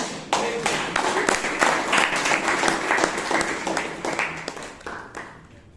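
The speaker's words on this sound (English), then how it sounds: "A lot of applause, Vijay" Applause from the audience at a Toastmasters club meeting in Bangalore: a dense, steady patter of many hands clapping together, close and fairly loud, lasting several seconds before thinning out at the end.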